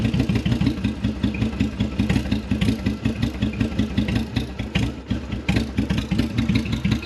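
A cold custom bobber motorcycle engine, its choke just relocated, idles in a steady low thumping rhythm with mechanical clatter, close and alone without talk.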